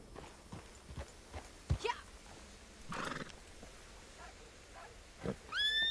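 Horse hooves clip-clop in a few scattered steps as a mount sidesteps in Red Dead Online, with a brief whinny and some game background sound; no talk.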